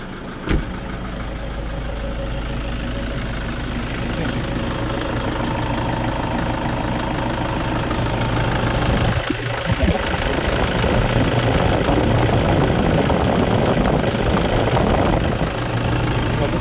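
A car engine idling steadily and loudly, with a low, even rumble that runs throughout and a brief thump partway through.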